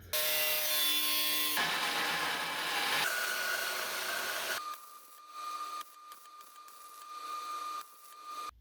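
A power tool cuts a section out of a rusty truck cab corner, grinding loudly and steadily up close, then shifting to a thinner, intermittent whine toward the end.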